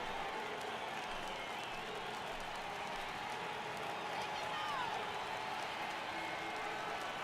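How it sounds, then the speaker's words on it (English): Baseball crowd in MLB The Show 18 video game, Cleveland Indians at Detroit Tigers, cheering as a 3-2 count arrives; steady, fairly faint stadium roar with scattered applause, swelling slightly near the end beneath commentary. "Crowd gets up for the 3-2."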